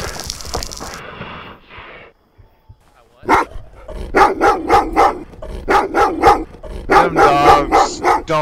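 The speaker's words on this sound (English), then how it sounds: "Don't stop barking." A dog barks repeatedly in short, loud bursts after a brief pause, with some yips mixed in, close and insistent.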